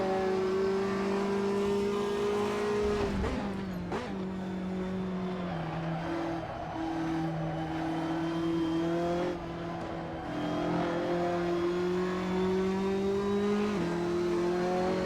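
Race car engine in a PC racing sim game, revving high and steady with shifting pitch, dipping through gear changes and a corner with a short squeal, loud and continuous throughout with no talk.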